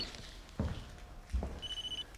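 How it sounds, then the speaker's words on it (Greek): A mobile phone starts ringing near the end with a thin, high electronic tone, following a couple of soft thuds like footsteps in a quiet room. "Να ένα λεπτό να απαντήσω το κινητό μου και θα σου πω."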